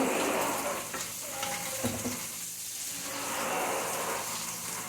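Food sizzles and fries steadily in a hot pan in a home kitchen, a loud continuous crackle with a few stirring scrapes and no voices.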